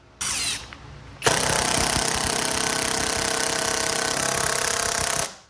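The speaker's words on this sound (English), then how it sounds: "we're going to put this into the impact driver now. I'm going to do this on high setting." A SKIL PWRCore 20 cordless impact driver on its high setting drives a screw: a brief motor whir, a short pause, then about four seconds of loud, close, rapid hammering that cuts off abruptly.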